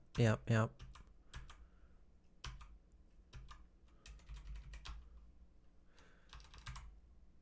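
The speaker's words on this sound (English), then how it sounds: "I must have done some very stray typing" Computer keyboard typing during a programming session, heard as irregular bursts of quick, close keystrokes and clicks. A short burst of speech comes at the start, and the clicking continues on its own after that.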